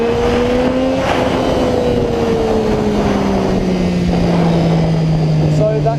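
A 2008–2011 Triumph Street Triple motorcycle engine held at high revs during a wheelie, a loud, close, sustained drone whose pitch slowly falls, with wind rush and a voice talking over it.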